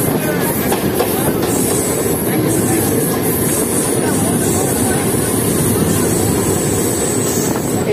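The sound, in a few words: Farakka Express train passing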